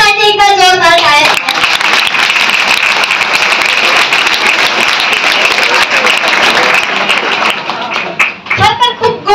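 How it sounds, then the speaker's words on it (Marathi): Loud, sustained audience applause fills a Savitribai Phule birth anniversary and women's liberation day gathering, swelling after a brief spoken opening and tapering into talk near the end. "या सर्वांसाठी एक जोरदार टाळ्या"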